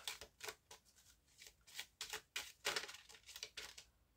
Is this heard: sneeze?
no